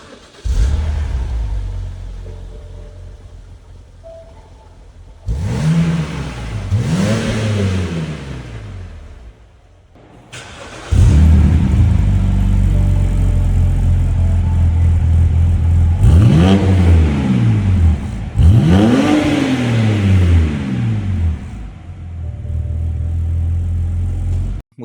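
A BMW with its muffler deleted is revved hard several times, each rev a loud, raspy climb and fall in pitch, with short idle gaps between the bursts.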